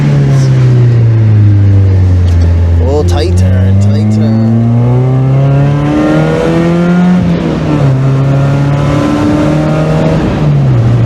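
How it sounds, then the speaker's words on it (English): A Mazda Miata's engine revs loudly up and down from inside the car as it drives, rising and falling through the gears in a strong close drone, while the driver briefly speaks over it. "let's make race car sounds"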